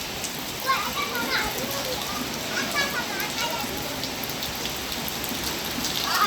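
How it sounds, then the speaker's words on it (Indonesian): Steady rain patters across the whole clip, with children's voices and play faintly audible in the background. "setelah hari ini kembali hujan yang lumayan deras, dan sekarang sudah mulai agak mereda."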